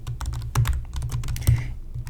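Code being typed on a computer keyboard, a quick run of close, crisp key clicks with uneven rhythm and a couple of heavier keystrokes, alone without talk.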